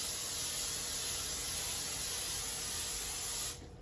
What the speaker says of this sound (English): Then we're going to coat our baking tray with cooking spray